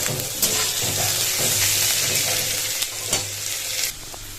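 Potatoes, cauliflower and carrots fry in hot oil, giving a dense, loud, continuous sizzle with occasional stirring knocks, close up and without voices.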